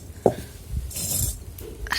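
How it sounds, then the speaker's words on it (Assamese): A kerahi wok is set down on a stove, giving a few sharp metallic clanks and light clinks of cookware spread over a short moment, with low background rumble. "কেৰাহী পাতি দিলো"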